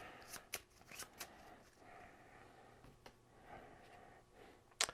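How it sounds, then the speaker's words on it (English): Board game action cards being shuffled back into a deck at a tabletop, several crisp riffling bursts and card snaps close by, with quiet pauses between them and no speech. "we basically take those Dino action cards back, we shuffle them in, and we go back around the deck again."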